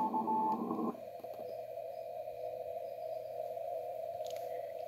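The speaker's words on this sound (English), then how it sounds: "Put a 200 hertz filter on CW." A single CW radio signal is heard through a 200 Hz filter on an Omnia SDR running with a Raspberry Pi 2. After a second of broadband noise, a steady narrow tone holds over faint background hiss.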